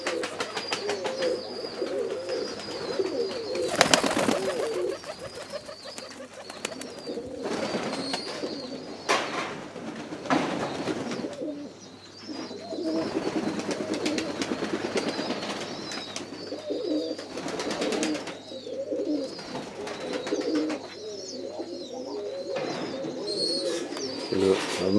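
Pigeons coo steadily for the whole stretch, their low rolling calls overlapping in an enclosed loft with a constant hum underneath, without any talk.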